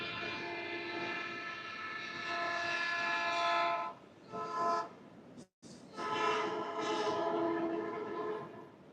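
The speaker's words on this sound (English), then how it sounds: "we got a train coming here." A train rolling past near a beach, a loud sustained rumble with a strong tonal horn-like drone, briefly dipping before carrying on, close and without talking.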